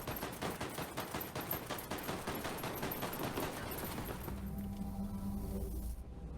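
Rapid, sustained gunfire from Ghost Recon Breakpoint crackles in dense automatic bursts for about four seconds, then cuts off, leaving a low ambient hum.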